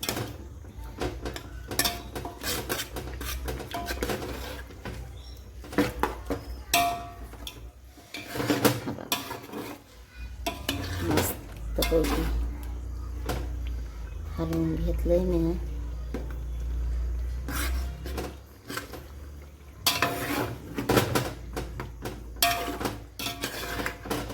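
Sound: stirring chicken pulao in a pot

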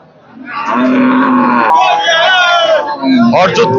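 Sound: cows mooing at a cattle market

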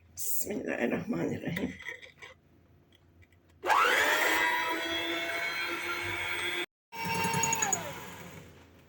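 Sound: electric mixer whisking eggs and sugar

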